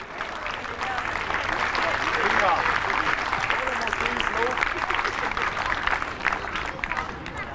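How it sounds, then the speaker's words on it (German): Applause for a youth football group at an award ceremony, a crowd clapping steadily and fairly loud throughout, with some cheering voices mixed in. "Einen grossen Applaus für Gruppe Chelsea."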